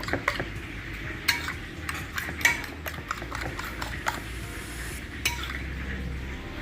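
Beaten egg whisked in a bowl with a utensil, a run of quick close clinks and scrapes in an irregular rhythm, no talking.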